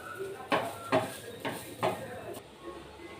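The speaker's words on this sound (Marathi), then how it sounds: "तर कांदाही मी काढून घेते आता." A spoon lifts reddish fried onion out of a pan in a run of about five evenly spaced metal scrapes and clinks, fairly close and moderately loud.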